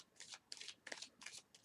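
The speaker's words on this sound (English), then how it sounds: "I just had a card fly out while I was doing some pre-shuffling." Tarot cards being shuffled up close in quick, crisp riffling bursts, several short rustling flurries with brief gaps between them.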